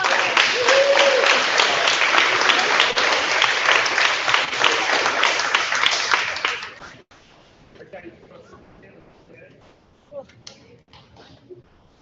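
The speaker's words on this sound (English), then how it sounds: "Please give them a nice round of applause." An audience at a board of education meeting applauds for the presenters: loud, dense clapping for about seven seconds, then fading to scattered faint claps and quiet room noise.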